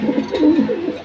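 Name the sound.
homer pigeons cooing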